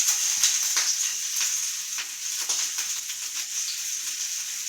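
Garlic, ginger and green chilli sizzle steadily in hot oil, a close, continuous bright crackle with scattered pops and stirring scrapes, and no voices.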